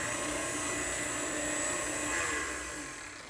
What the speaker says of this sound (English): I'm going to turn that on just briefly to mix that in.